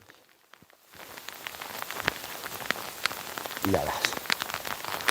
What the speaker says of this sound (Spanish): Madre de Dios, como llueve, macho.